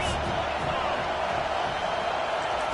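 A large football stadium crowd keeps up a steady, loud roar of cheering throughout, with a commentator's voice faintly underneath.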